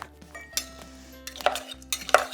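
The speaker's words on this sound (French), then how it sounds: "Donc, on pile les ingrédients." Honeydew melon and pink peppercorns being muddled in a glass for a gin cocktail, with dull thuds, grinding and clinks in irregular bursts, close up.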